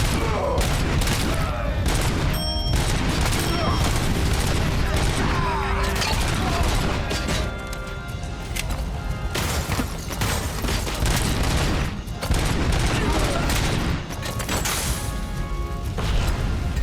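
Dense, loud gunfire from a pistol in the Robocop: Rogue City game, rapid shots layered with impacts and mechanical clatter, continuous through the whole stretch.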